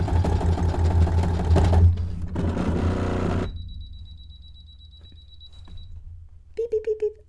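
A domestic sewing machine stitching through three layers of boning runs loud and steady for about three seconds, then stops, followed by a thin electronic tone and a few short beeps.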